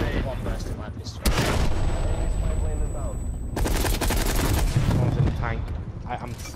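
Rapid bursts of MP5 submachine gun fire in Call of Duty: Black Ops Cold War multiplayer Domination on the Crossroads map, dense and loud, with a sustained volley in the middle and game explosions and a voice talking over it.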